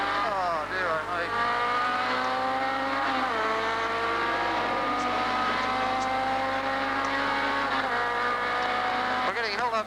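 Holden race cars at Bathurst in 1980 howl past with rising and falling engine notes layered over one another, loud and continuous, with commentary voices talking over the racing.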